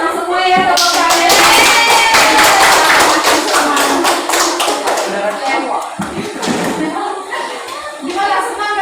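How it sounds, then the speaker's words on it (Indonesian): Students in a classroom clap their hands together in a loud, lively burst of rapid, overlapping claps, with children's voices mixed in as the clapping gradually breaks up. "senang semua ya tepuk tangan"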